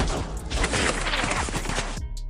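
Dense bursts of gunfire in a monster film, soldiers shooting at a creature mistaken as an attack: rapid overlapping shots and crashes, loud and close, cutting off abruptly near the end.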